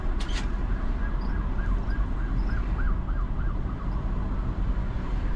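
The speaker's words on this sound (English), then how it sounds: "I hear the sirens, but I don't know where the hell it's at." A wailing siren rises and falls repeatedly in the distance over a steady low rumble of road traffic, with no voices.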